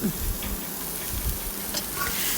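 Two large onions and chopped cabbage frying together in a pan, a steady close sizzle with stirring clatter and low background murmur.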